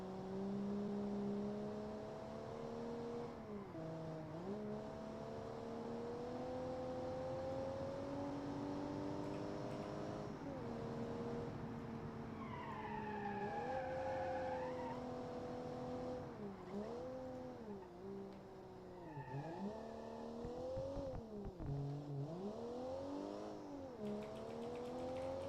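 A car driven in the video game BeamNG gives a continuous engine drone whose pitch climbs and dips repeatedly as it shifts and accelerates, with brief rising whines, no talking over it.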